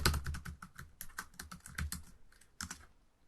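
A computer keyboard is typed on in a quick burst of crisp, close keystrokes that trails off into a few final taps, with no voices.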